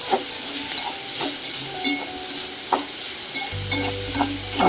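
Small onions and a large chopped onion sauté in a pan with a pinch of salt for a Tamil mutton kuzhambu, a steady close sizzle broken by regular scrapes and stirs of a spoon, with no talking.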